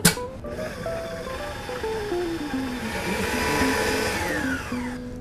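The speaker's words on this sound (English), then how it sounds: "I'm going to start off our dessert with the Waring tabletop mixer." A Waring tabletop mixer creams butter and confectionery sugar in a steady, whirring drone with shifting pitch, motor hum rising and easing over about five seconds with no talking.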